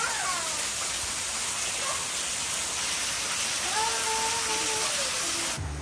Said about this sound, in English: Praise the Lord for the rain.